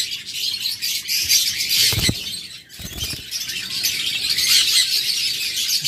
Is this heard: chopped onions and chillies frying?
no